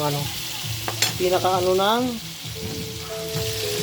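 Chopped tomatoes cooking in a pan for a Filipino home-style dish, with a soft, close sizzle and stirring, plus brief tonal, voice-like sounds in the background.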